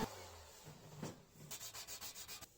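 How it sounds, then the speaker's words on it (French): Grinding and sanding of the welds on a metal cross, heard as an abrasive, rubbing scrape that starts low and builds into a steady run of rhythmic strokes near the end, with no voices. "Et puis j'ai meulé les soudures et poncé."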